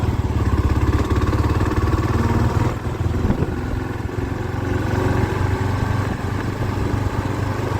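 A Gen 3 Kawasaki KLR 650 single-cylinder motorcycle being ridden with its stock windscreen: a steady, loud engine drone with broad wind roar over it, continuous throughout with a brief dip in the middle, and no voices.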